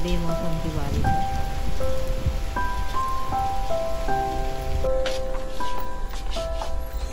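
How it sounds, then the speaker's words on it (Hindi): Steady unseasonal rain hisses throughout, loud and close, while a soft melodic tune plays in the background. "मौसम की बारिश नहीं, ये तो बेमौसम की बारिश है।"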